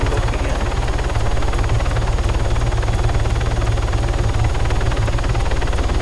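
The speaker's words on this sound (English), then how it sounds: "I would like to see whose helicopter this is" A helicopter in the military video game Arma 3 hovers close by, its rotor thumping in a loud, continuous, rapid rhythm with a steady engine whine, no voices.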